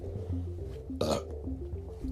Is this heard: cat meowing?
no